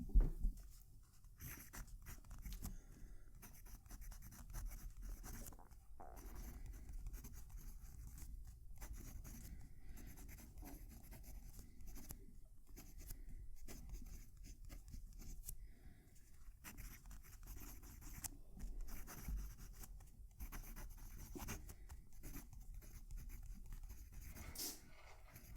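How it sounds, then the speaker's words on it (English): A fountain pen nib scratches across paper close to the microphone, with irregular strokes and brief pauses in a quiet room, a soft, dry scraping texture with faint feedback and no talking. "I'll move the mic down to the paper so you can hear it right"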